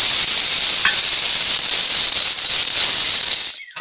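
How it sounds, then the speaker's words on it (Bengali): Chiti crabs hit hot oil in a pan, setting off a loud, close, steady hiss of sizzling that runs unbroken for several seconds before cutting off abruptly. "এবার এই বড়ি তেলে খানিকটা চিতি কাঁকড়াগুলো ঢেলে দিয়ে দেব।"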